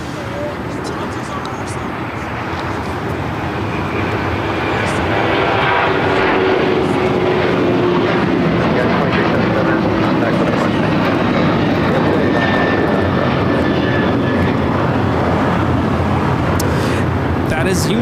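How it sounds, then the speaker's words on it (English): A United Airlines Boeing 737-900ER jet takes off at LAX, its engine roar swelling in the first seconds and then holding as a broad, loud, sustained rumble. "United Airlines 2377 taking off to Houston Intercontinental on the 737-900ER"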